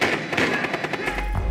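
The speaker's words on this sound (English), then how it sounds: "The defuser has been destroyed." A defuser destroyed during a Villa bomb match in Rainbow Six Siege, heard as a quick burst of crackling pops and thuds with a low boom at the end, loud and close, lasting under two seconds.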